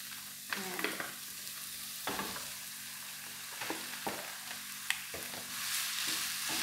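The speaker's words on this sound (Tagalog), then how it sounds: "lagay na natin ang ating minced beef" Minced beef fries in a pan with onion and garlic, a quiet sizzle punctuated by repeated sharp scrapes and clacks of a utensil stirring the meat.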